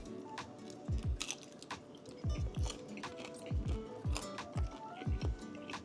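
Grilled shrimp eaten with the shell on, heard up close as a series of crisp crunching bites and chews coming in small clusters with short pauses between.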